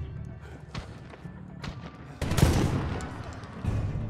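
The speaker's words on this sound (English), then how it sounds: "Fucking shotgun." Gunfire in the Medal of Honor campaign, a burst of loud blasts and crackling shots midway over ongoing combat noise, with a voice briefly heard.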